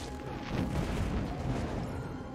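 A muffled, rumbling explosion in the video game Ring of Pain rolls on as a dense low boom, fairly loud and sustained across the moment, with no speech over it.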